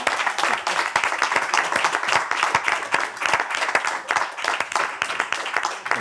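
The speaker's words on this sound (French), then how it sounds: "Bravo, on peut les applaudir." An audience applauds the winning team at the grand final of the Mots en Or 2025 contest, many hands clapping briskly and continuously at close range, with dense individual claps and a fairly constant level.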